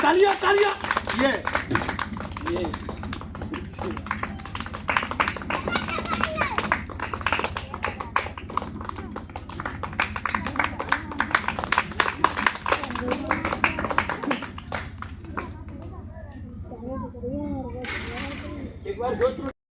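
A crowd at a gathering keeps up brisk, rhythmic clapping under a man's loud speech, and the clapping thins and quiets toward the end.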